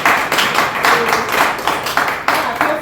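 A few people clap by hand in uneven, close bursts, loud and sparse rather than a full crowd, with no talking.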